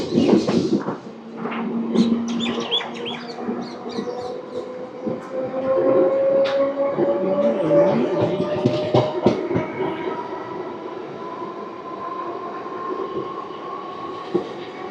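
A MEMU passenger train between Rajahmundry and Bhimavaram in West Godavari rumbles along, heard from on board. A steady low roar carries intermittent clicks and clacks, and a rising tonal whine drifts upward through the middle of the clip.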